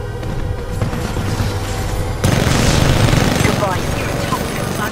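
Sustained gunfire in the Titanfall 2 final boss fight, heavy automatic bursts and booms that turn louder and denser midway, with a voice talking over the shooting.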